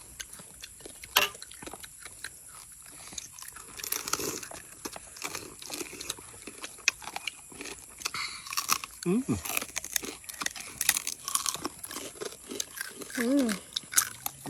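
Crunchy, oily fried food being bitten and chewed at a home rice meal, with scattered crisp crunches and chewing noises under intermittent talk from several people.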